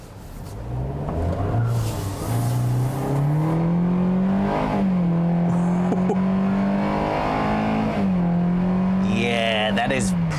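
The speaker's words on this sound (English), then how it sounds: "That is one of the noisiest engines I've heard in a long time." The engine of a 2021 Hyundai Venue hums and revs noisily while driving, its pitch rising and settling through gear changes, with a person talking over it.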